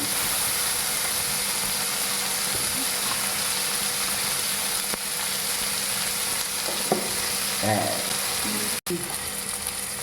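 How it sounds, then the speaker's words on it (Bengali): Chopped onion and dried red chillies tempering in hot oil for a small-fish curry, a steady, close, continuous sizzle with a few brief clinks of stirring near the end. "এই দেখুন পেঁয়াজ কুচি শুকনো লঙ্কা ফোড়ন"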